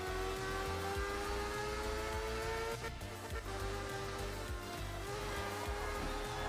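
Rally car engines in the racing game Art of Rally whine and drone at high pitch, like small jet engines, with sustained revving tones and a brief dip in the middle.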